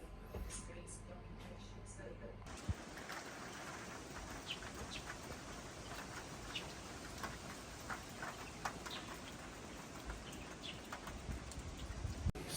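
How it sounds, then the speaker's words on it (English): Steady rain and gusting wind at a cabin deck in Tasmania, a dense continuous hiss with scattered drip ticks, beginning abruptly after a quieter stretch and holding at a fairly loud, even level. "So the rain has arrived and the wind is really starting to pick up."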